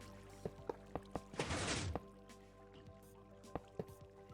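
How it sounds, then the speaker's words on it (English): In the Minecraft video game, water is placed into a sugarcane farm with a brief whooshing splash, surrounded by soft, regular clicking block-placement taps, quiet with no voices. "We just need to put in our water like so."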